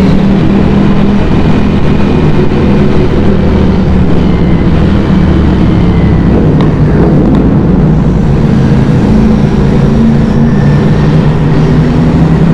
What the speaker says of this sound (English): God, these bikes sound good.